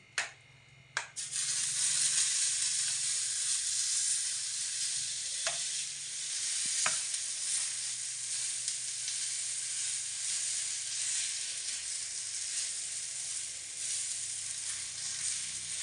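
Gram flour chilla batter poured onto a hot ghee-coated griddle over low gas, a few sharp clicks at first, then a loud, steady, close sizzle that holds for the whole stretch with no one talking.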